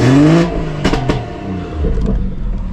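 A BMW M140i with a stage 2+ tune, set in Sport Plus mode, revs while stationary: a loud, rising engine roar at the start, a few quick blips, then a rumbling idle with light popping, heard close up.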